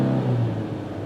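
A manual-transmission car's engine revs up to around 2,000–3,000 RPM in first gear, a close, steady rumbling hum that holds loud throughout with no speech.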